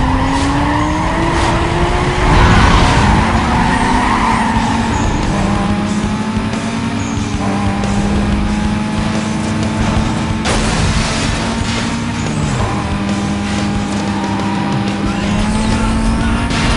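Race cars in Need for Speed: Most Wanted (2005) during speed trap racing, loud revving engines shifting through gears with sustained tire squeal and skidding throughout, continuous and close.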